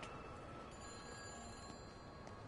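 A telephone rings inside the video game Everybody's Gone To Rapture, a faint electronic bell tone sounding over a thick, steady background hiss with no speech.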